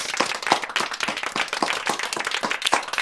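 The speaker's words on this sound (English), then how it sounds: "Let's give a round of applause for y'all." A small group claps for listeners at a podcast-style show, giving a few seconds of brisk, uneven hand claps with sharp individual slaps, fairly close and without voices.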